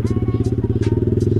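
A Yamaha MX King 200cc fitted with a Pekajaman aftermarket exhaust rumbles while riding, a close, steady, throbbing low engine note with a regular pulsing beat and faint wind noise.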